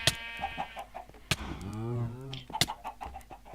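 Minecraft chickens clucking in short repeated bursts alongside other game sounds, with a voice speaking over them at moderate loudness.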